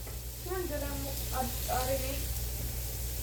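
Onion and garlic sizzle in hot olive oil in a pan, a steady soft frying hiss running throughout, while a person talks over it.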